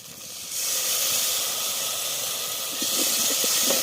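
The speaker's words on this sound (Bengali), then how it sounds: "মশলা যাতে না পুড়ে যায়, এটা একটু জল দিয়ে দিলাম।" Water poured onto spices in a hot pan sets off a loud, steady hiss of steam and sizzle that swells suddenly and carries on close by without letup.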